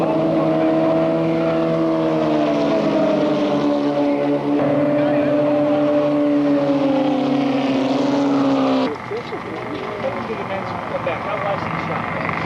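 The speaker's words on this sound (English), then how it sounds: "Out in front of the bridge, a 4-car train, and Davis has them all over him. And they're coming through 3 right now." A four-car train of race cars at the 1990 SCCA Runoffs roars past close by, with loud, layered engine drones that hold high and then drop in pitch as the pack goes through the corner.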